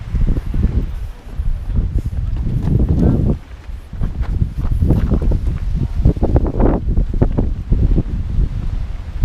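Strong wind gusting at Promthep Cape, a headland on Phuket's southern tip, buffeting the microphone in continuous loud rumbling bursts, with faint rustling and footsteps underneath.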